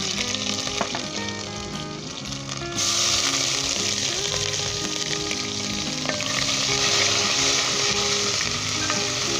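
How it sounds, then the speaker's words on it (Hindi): Ginger garlic paste frying in about two tablespoons of oil in a pot: loud, continuous close sizzling and crackling that intensifies partway through, with light stirring clinks and no speech. "इसे 10 सेकंड के लिए हम फ्राई करेंगे।"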